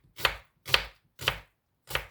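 A knife chops through an onion on a board with four distinct, evenly spaced thuds, close and clear with silence between strokes, no voices.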